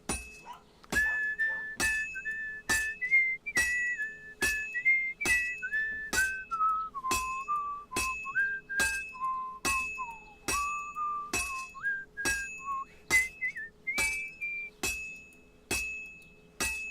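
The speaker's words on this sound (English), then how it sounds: "I like how he whistles the one from the first game." A character in Kingdom Come Deliverance 2 whistles a melodic tune from the first game, clear and close, while sharp regular metallic clinks ring out roughly once per second throughout.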